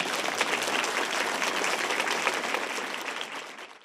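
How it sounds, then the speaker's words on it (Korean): An audience applauds to welcome Constitutional Court justices entering a hall, producing dense, steady clapping from a large crowd that fades out at the end. "모두 박수로 환영해 주시기 바랍니다."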